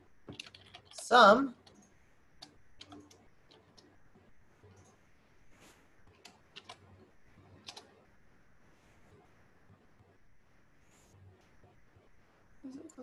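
Computer keyboard typing while working in an Excel spreadsheet, soft scattered keystrokes at low level beneath a person talking, with one louder burst near the start.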